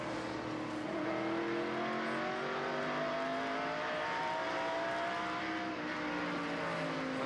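NASCAR Truck Series race trucks, a field of 28, lapping Colorado National Speedway in 1995, their engines a loud, steady, continuous roar with overlapping rising and falling engine tones as the pack runs together.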